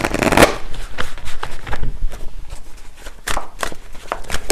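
Tarot cards shuffled by hand in quick, close, crisp riffling bursts, loudest at the start and returning in several rapid flurries.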